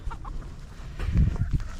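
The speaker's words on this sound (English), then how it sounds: "So laughing rooster is right over there." A rooster in a backyard flock gives short, close clucking and throaty calls, with soft background ambience and no talk.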